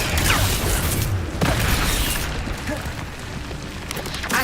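Incendio fire spell cast during a Hogwarts Legacy battle, a burst of fiery whooshes and booms over busy game combat noise, with a sharp blast near the middle and dense rumbling throughout.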